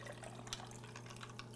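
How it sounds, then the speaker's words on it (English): Black Thai coffee poured into a cup, a soft, steady trickle of liquid heard close up over a low, constant hum, with faint drips. "Now see if I can pour this without spilling."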